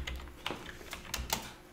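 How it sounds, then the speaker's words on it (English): Light keystrokes on a computer keyboard as a password is entered at a remote desktop login, about half a dozen soft, close clicks in an irregular rhythm. "And then enter your password."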